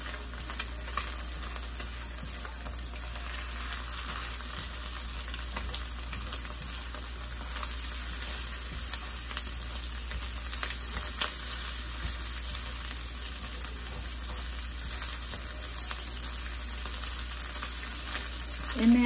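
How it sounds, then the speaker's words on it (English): Chicken fried rice sizzles steadily in a pan on a stovetop burner, a constant close frying hiss with faint stirring clicks and no talking. "I'm gonna cut the burner down a little"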